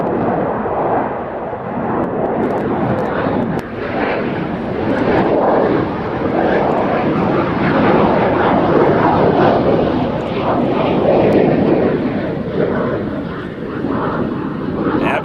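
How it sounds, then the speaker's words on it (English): An F-18 jet fighter on a flying display makes a loud, sustained, rumbling roar that swells and eases over about fifteen seconds, heard from a distance and dominating the whole stretch. "With a brilliant display of this fantastic F-18."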